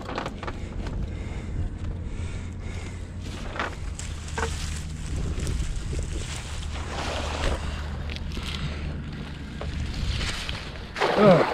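Wind buffeting a small boat on the water during a shrimping trip, a continuous rough rumble and gusty noise with faint splashes and knocks, loud and close, with no talking.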